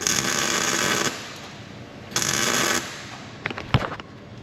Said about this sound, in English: I'm welding on the fuel tank too.